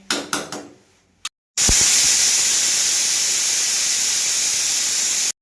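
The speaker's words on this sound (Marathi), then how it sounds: "कुकरचं ढाकण बंद करून असे 3 ते 4 शिट्ट्या होऊन देणार आहे" A pressure cooker on the stove, cooking masoor pulao, gives a few short knocks before a loud, continuous rush of hissing steam from its whistle that holds steady for several seconds, then cuts off abruptly.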